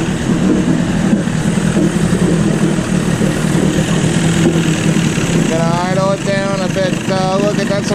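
A mid-90s Evinrude 20/25 horsepower outboard motor idles with a steady, close, rough mechanical chug, joined near the end by someone speaking over it.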